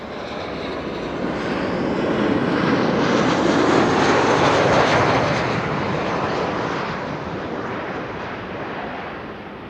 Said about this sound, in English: This is KLM Flight 1270, arriving from Copenhagen, 737-800.